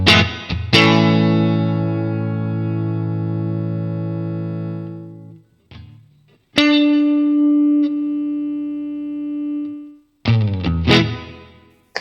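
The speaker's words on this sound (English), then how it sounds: "This is a looper and a reverb." An electric guitar runs through a Helix looper and reverb preset, playing long sustained distorted chords that ring out, stop, and restart with new chords, loud and close.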